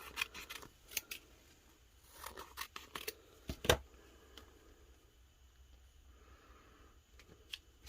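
Scissors trim a vinyl decal for an epoxy tumbler, producing a series of quiet, irregular snips and crisp cuts, one sharper cut standing out midway, in an otherwise quiet room.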